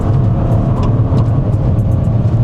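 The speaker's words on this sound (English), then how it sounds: "those turbo noises sound really cool" A turbocharged car engine runs steadily with a loud, constant drone, with faint whistling turbo whines rising and falling above it.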